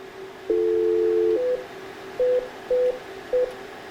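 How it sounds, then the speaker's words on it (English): Phone tones dialing into a Cisco Unity Express automated attendant: a steady dial tone, then four short keypad tones in an uneven rhythm, clear and close. "let's dial in to our automated attendant at 4550"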